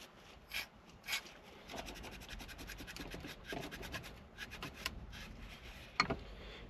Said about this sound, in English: if I careful rub with some light abrasive, this being very light at P60